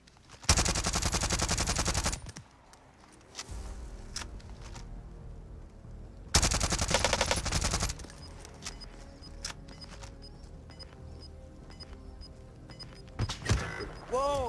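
Gunfire in a multiplayer battle royale shooter: two long, loud bursts of rapid automatic shots, separated by quieter game ambience and scattered clicks and pops, with a few sharp reports near the end.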